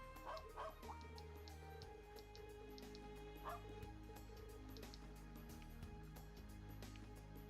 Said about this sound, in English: But she lost something, so we're gonna borrow Ron's dog over here to go sniff it out.